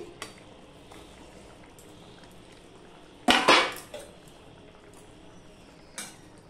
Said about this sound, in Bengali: এবারে আমি এই বাটা মাছ যে ভেজে রেখেছি সেটা আমি দিয়ে দিচ্ছি